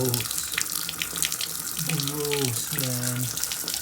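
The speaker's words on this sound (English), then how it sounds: "Let that sit and run as the hot water heater fills." A faucet runs steadily while a newly installed hot water heater fills, a continuous splashing hiss of tap water with a faint voice in the background.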